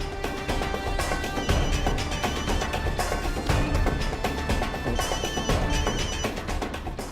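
A telephone rings steadily for several seconds, the tone sitting within a dense, loud background of music and other sound.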